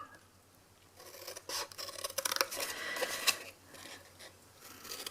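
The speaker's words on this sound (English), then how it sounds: "So on the square end you cut up all of those." Scissors snip repeatedly through the edges of a paper box, producing close, crisp cutting and rasping sounds in quick clusters with short pauses between them and no speech.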